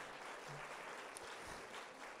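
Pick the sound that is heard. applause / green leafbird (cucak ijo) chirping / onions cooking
applause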